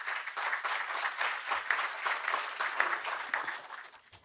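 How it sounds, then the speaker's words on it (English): An auditorium audience at a session applauds a welcomed Supreme Court judge, with steady, moderately loud clapping throughout that eases slightly at the close. "Can we have a round of applause,"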